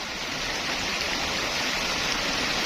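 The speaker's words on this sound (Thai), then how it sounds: "อันนี้ก็ติดลำธาร" A flowing stream runs beside a plot of land in Chaom, Kaeng Khoi, Saraburi, Thailand. The water gives a steady, close, continuous rushing hiss with no voices over it.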